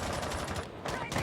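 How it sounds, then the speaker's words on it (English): Rapid gunfire and explosion bursts from a Rainbow Six Siege competitive match, loud and dense throughout a short stretch, with commentary voices faintly mixed in. "Explosions and chaos ensue."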